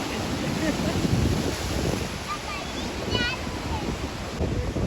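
Steady wash of sea waves and wind noise rolls on throughout at the Diu seashore, with faint distant voices and a few high whistling chirps.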